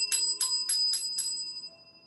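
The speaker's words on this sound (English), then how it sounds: "I need to ring the bell for somebody." A handheld bell rung five times in a quick, even series of bright metallic strikes, each ringing briefly, then fading to quiet.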